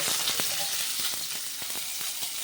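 Spice paste sizzles and crackles in hot oil with cumin seeds and a little panch phoron, a close, continuous frying hiss dotted with sharp pops.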